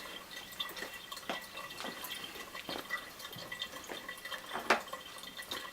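Water trickling back into a handmade ceramic pet drinking fountain, a faint, continuous gurgle with scattered small drips and splashes, quiet and close, with no talk.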